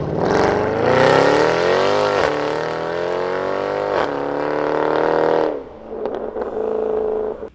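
A Mercedes C63 AMG with a 6.2 liter engine sounds loud and close, a sustained rising roar with gear changes and a sharp cut near the end, followed by quieter burbling idle.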